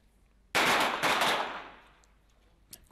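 A single sharp pistol shot at a 25 m women's pistol World Cup event in Changwon, Korea, with a loud crack followed by a long, fading reverberation in an indoor range.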